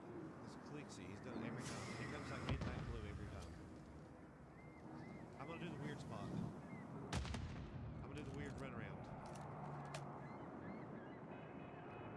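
Video game gunfire in Modern Warfare III, scattered sharp shots and bursts at a distance, faint under excited talking from players throughout.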